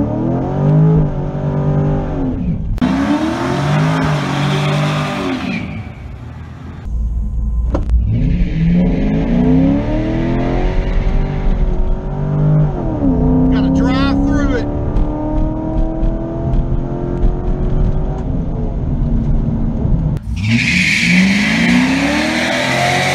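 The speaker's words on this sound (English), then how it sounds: "I'm gonna make one more NA pass real quick." C5 Corvette on a naturally aspirated drag strip pass, loud engine revving and accelerating in bursts with roaring pulls and gear changes, close by, with people talking in between.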